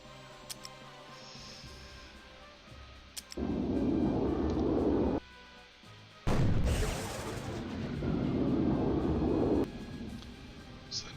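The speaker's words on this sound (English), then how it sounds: "I'm calling in some more airstrikes." Airstrike explosions in the video game People's General, set in a USMC versus massed Iraqi armor battle, arrive as heavy sustained booming blasts that swell and cut off in long loud bursts, with small clicks between them.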